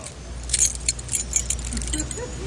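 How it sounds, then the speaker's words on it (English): Keys jangling in the Beavis and Butt-Head video game, a bright metallic clinking in quick irregular bursts over steady low background hum. "Try using the keys"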